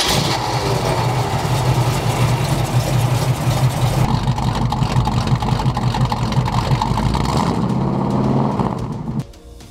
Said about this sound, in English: and a V8 engine